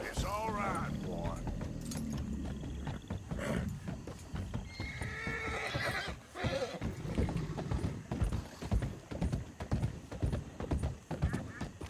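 A horse's hooves clip-clop steadily on a wooden bridge in Red Dead Redemption 2, with the horse whinnying and a person speaking over parts of it.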